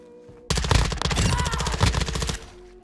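Rapid automatic gunfire from a Modern Warfare 2 match bursts in loud and close, a dense run of shots lasting about two seconds before cutting off, with no voices.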